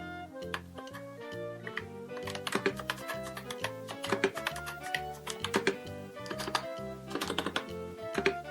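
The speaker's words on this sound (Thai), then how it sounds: "ทีนี้มาลองพิมพ์ดูนะคะ" Typing on a MelGeek Mojo60 mechanical keyboard paired with an iPad Air 5, a steady run of close, crisp keystroke clicks with occasional heavier thocks over a constant background tone, no talking.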